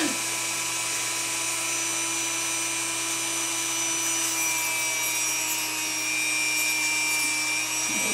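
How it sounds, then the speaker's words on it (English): A Dremel rotary tool grinds a great horned owl's talons in a steady, continuous high whine that stays close and even throughout, with no talking over it. "i Dremel off the part that we're making sharp."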